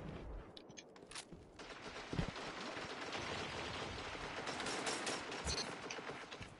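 Video game gunfire with sharp shots and rapid bursts over a dense, noisy background of mechanical clatter, fairly steady throughout with no speech.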